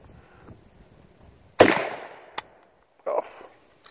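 A Weatherby shotgun fires one loud, sharp shot with a short echoing decay, followed by a quick metallic clack and then a duller mechanical knock.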